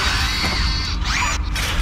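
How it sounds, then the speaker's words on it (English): Elevator machinery in the game Shadow Complex moving, a steady mechanical whir with creaking, ratcheting gear texture that rises and dips in brief swells, heard alone without talk. "Oh crap! That's the elevator."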